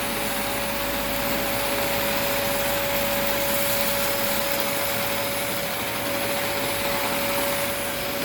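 A Eureka Optima 431BX vacuum cleaner runs continuously during an airflow test, giving a loud steady motor whine with a sustained high tone and broad rushing air, unchanging throughout with no talking.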